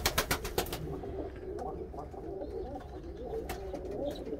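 Pet pigeons coo in a loft, soft low rolling calls repeating under a few sharp taps and wing flutters at the start, close and moderately loud.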